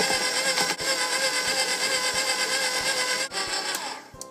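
Cake batter of flour, milk and a pinch of salt is beaten in a bowl for a marble Christmas tree cake, producing a loud, steady whirring drone broken by regular soft knocks.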